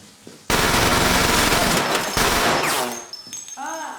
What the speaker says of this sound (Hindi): तुम तो हवा में गोलियां चला रहे हो मिस्टर टेडी